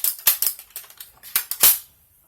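A Dart Zone BlitzFire toy blaster fires about eight sharp, close snapping shots in quick uneven succession, then falls quiet.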